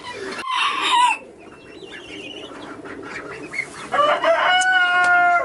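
A rooster named Zeus crows in the afternoon, loud and close, with a clucking call up front and a full cock-a-doodle-doo near the end over faint background.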